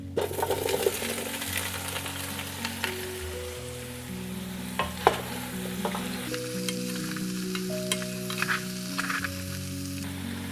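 Radish hits a couple tablespoons of hot avocado oil in a big pot, sizzling and crackling steadily up close while a utensil clinks and stirs against the metal.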